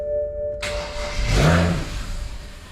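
A BMW N54 engine, fresh from an 800HP+ fuel system install, cranks and catches with a brief rising rev that lasts about a second, then dies away into quiet background noise.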